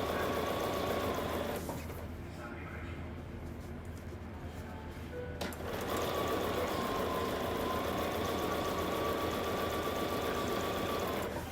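A sewing machine stitching binding onto a small snowman quilt-as-you-go table topper, a steady mechanical hum that pauses briefly partway through, then runs on evenly.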